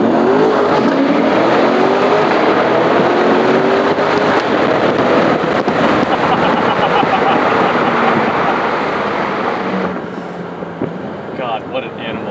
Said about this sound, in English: Engine sound max.